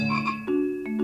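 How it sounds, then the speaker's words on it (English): A real frog croaks close up, giving two or three raspy, buzzing croaks in quick succession, loud and alone with no talking. "that's a real frog"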